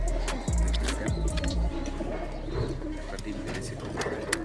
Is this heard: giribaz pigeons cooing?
yes